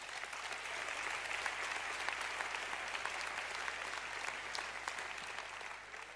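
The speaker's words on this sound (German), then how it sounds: "Applaus" Steady applause from a lecture audience at a German conference on education, even, continuous clapping heard at a moderate distance with no talking.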